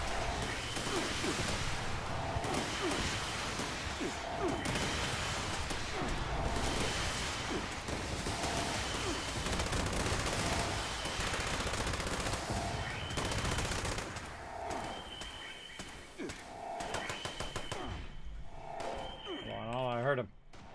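Rapid automatic gunfire from a Fallout 76 shooter game, with dense sustained bursts running for most of the clip before thinning out near the end as the weapon runs dry, over a steady game backdrop.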